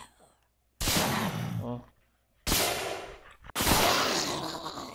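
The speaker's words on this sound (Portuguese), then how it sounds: "Ó, um tiro de AK, velho." AK rifle shots ring out in the survival game Rio: Raised in Oblivion, three sharp loud blasts with ringing decay, separated by short gaps, with someone speaking briefly.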